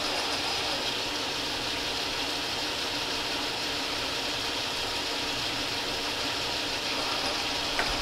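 A metal lathe threading under power feed, the cut running as a steady, continuous mechanical whir and hiss at even level throughout, close by and unbroken.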